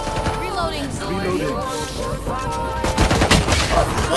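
Gunfire from a Valorant match, rapid shots crackling in quick bursts under loud, overlapping voices chatting and laughing throughout.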